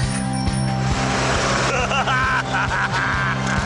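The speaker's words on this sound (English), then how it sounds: "I love this tuk-tuk, it's just mad." Tuk-tuk engine driving through heavy rain, with a rattling, pulsing low putter under a dense hiss of traffic and rain and a bell-like ring.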